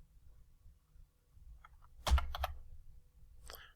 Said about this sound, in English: So I'll start typing in the word center.